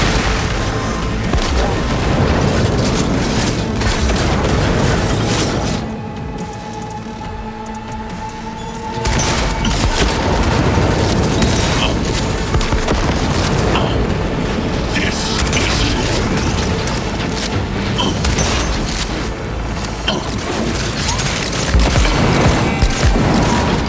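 Grenade explosions in Cyberpunk 2077 combat land as heavy, continuous booms and rumbling blasts mixed with mechanical clatter, loud and dense almost throughout with only a short lull, while voices speak underneath.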